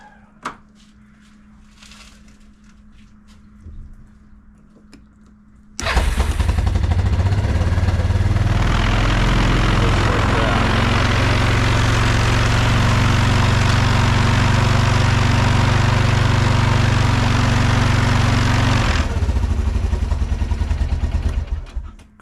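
After a few quiet clicks and handling noises, an ATV engine catches and roars to life, then idles loudly with a steady, rough mechanical rumble that eases slightly near the end.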